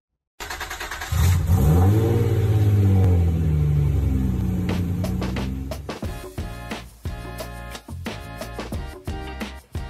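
A 2020 Infiniti QX50 engine rises in a strong, close rev as the car accelerates and the pitch sweeps upward, then eases back. Clicks and rattly cabin sounds follow as the engine note fades.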